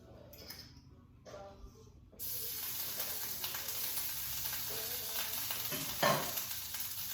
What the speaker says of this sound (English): we're going to take some fresh chopped garlic and we're going to add that to your skillet